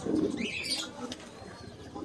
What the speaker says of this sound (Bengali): তারপরে এখানে আছে আরো বিউটি কবুতর। এটা খুব পছন্দের কবুতর, খুব সুন্দর কবুতর